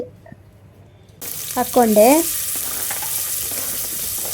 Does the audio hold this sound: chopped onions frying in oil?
yes